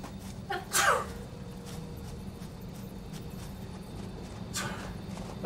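A single sharp sneeze bursts out close by near the start, then gives way to a quiet, steady background hum with a faint rustle later on.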